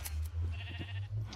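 Sheep on a wool farm in a modded block-building video game bleat in a couple of short calls over a low steady hum, fairly faint and without talk.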